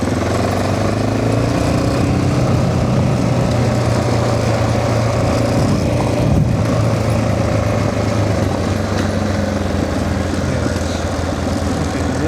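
An off-road motorcycle engine-brakes on a private trail at the Crooked Finger OHV area, giving a loud, continuous, buzzing engine drone close to the microphone with little change throughout.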